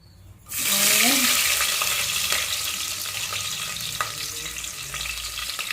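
Whole spices including cardamom, cloves, cinnamon, bay leaf and star anise sizzle loudly in hot oil as ginger garlic paste is stirred in a pan, a steady close frying hiss with light scraping.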